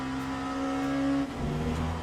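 A race car engine holds a steady, droning tone while driving on a wet track, then the pitch drops sharply as it lifts off and settles into a lower note, loud and close with no talk.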